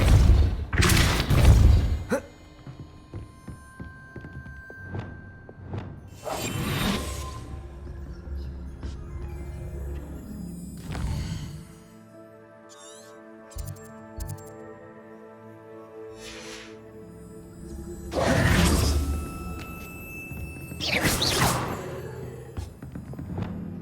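Spells cast in the video game Hogwarts Legacy, including Confringo, Accio, Descendo and Depulso, land as loud whooshing bursts and booming thuds at intervals, separated by quieter stretches of tonal game music.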